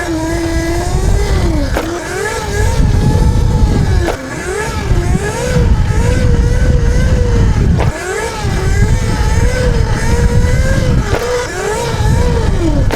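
A 13 kW, 84 V electric dirt bike pitbike surges loudly in repeated bursts, its motor whine climbing and dropping several times as it accelerates into wheelies, close and continuous with brief dips between pulls.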